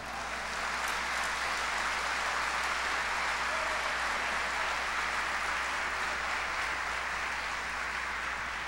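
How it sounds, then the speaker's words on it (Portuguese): Steady applause from a crowd, dense and continuous clapping that holds at an even level throughout without any voices on top. "Você podia aplaudir Jesus."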